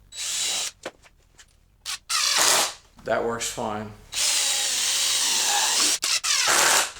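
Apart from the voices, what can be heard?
drill driving screw into wood with 1/8 inch pilot hole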